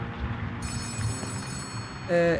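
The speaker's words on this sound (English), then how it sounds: "the phone is ringing" A telephone in the video game Letter Lost rings with one short, bright electronic burst near the end, following a stretch of low, murky ambience and a thin high tone.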